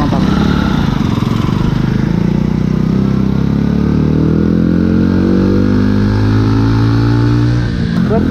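Honda Little Cub motorcycle climbing a hill, its small single-cylinder engine droning loud and steady throughout with a low rising pitch under load, up close, briefly dipping near the end.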